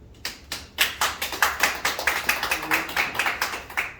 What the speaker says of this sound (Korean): 오늘 박수 박수 한번 쳐주셔요